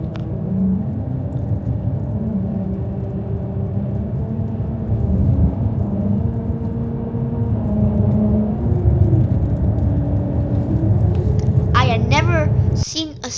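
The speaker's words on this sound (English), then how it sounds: "When the car wheels drove over these grooves at the right speed, the road made a little musical sound." Car tires rolling over grooved musical road strips on a winter drive in Harbin, with steady rumble carrying sustained humming tones that shift in pitch, under people chattering inside the car.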